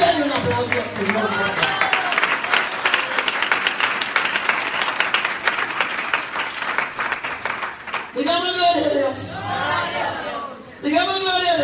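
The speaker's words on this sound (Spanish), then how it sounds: "Dale un aplauso al Señor" Congregation applauding during a church service, a dense sustained roar of clapping that runs for about eight seconds, with people talking and preaching over it as the clapping tails off near the end.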